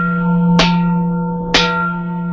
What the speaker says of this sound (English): No, it's on the double gong.